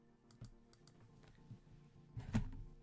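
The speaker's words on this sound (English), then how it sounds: "Why don't you type this in?" Keys clatter on a computer keyboard in short bursts of quiet, close taps, ending in a slightly louder cluster of strikes, with faint room noise underneath.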